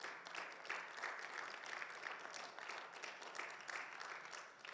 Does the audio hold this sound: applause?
yes